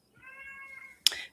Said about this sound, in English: you may hear my kitty cat in the background.